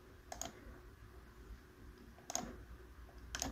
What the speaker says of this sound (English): use keyboard to press enter